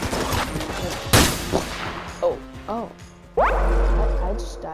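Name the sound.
gunfire in the video game Enter the Gungeon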